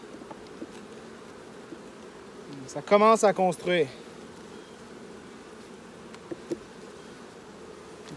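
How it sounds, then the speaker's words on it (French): Honeybees drone in a steady low hum from a hive fitted with added honey supers, with someone speaking briefly over the buzz midway. "Il y a beaucoup d'abeilles en haut."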